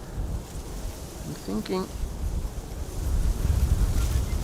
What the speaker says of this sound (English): to me it feels like the wind has become a bit more gusty